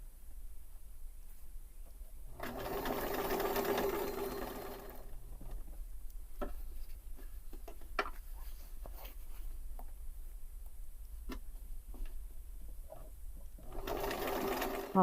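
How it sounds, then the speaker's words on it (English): A sewing machine stitches a narrow turned-under hem around the top edge of fabric, running in two loud continuous bursts with a stretch of quieter handling clicks and rustles between them. "I'm going to sew it under just a smidge all the way around the top"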